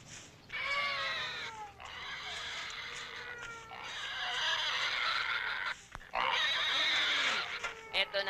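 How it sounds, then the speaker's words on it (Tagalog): Pig squealing and grunting in repeated loud, harsh bursts, close by, in a rural Filipino comedy scene. "Takanin mo na yung baboy!"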